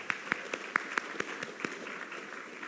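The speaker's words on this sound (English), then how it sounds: "So give yourself a big clap." Scattered, sparse clapping from a small audience at a healthcare conference in the Cayman Islands, about a dozen distinct claps at an uneven rhythm, fairly quiet and heard on its own.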